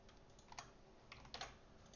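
A computer keyboard is typed on softly in a few scattered clusters of keystrokes, faint and slightly distant, with no speech.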